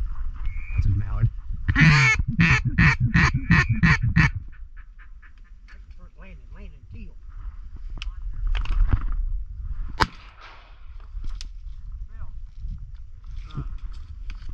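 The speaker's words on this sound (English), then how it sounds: "That's a mallard." Mallard ducks call during a duck hunt, a close burst of loud, rapid quacks in a steady series followed by fainter scattered calls, with people talking quietly throughout.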